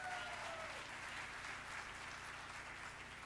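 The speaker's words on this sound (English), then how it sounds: "please join me in applauding the Excellence and Equity Committee for an exceptional job well done" A large audience at an awards celebration applauds steadily, dense even clapping from a crowd in a hall for several seconds with no speech over it.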